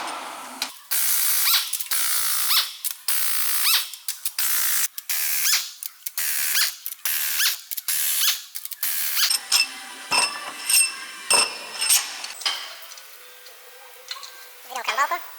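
Cylinder head bolts on a MAN TGX D2676 Euro 6 truck engine are loosened with a hand tool, giving a run of sharp, close clicking and ratcheting bursts, followed by quieter metallic knocks while someone talks.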